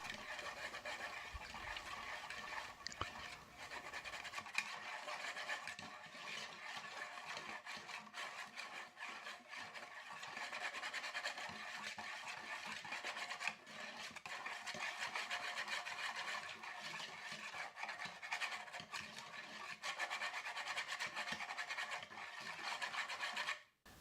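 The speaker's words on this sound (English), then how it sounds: "I took a whisk and mixed it all up." Chicken jerky marinade with turmeric and cinnamon being whisked in a bowl, a continuous close scraping, rasping swish of the whisk against the bowl that keeps a steady texture for over twenty seconds, with no voice.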